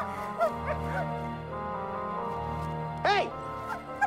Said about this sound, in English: I told you to keep them dogs from yapping.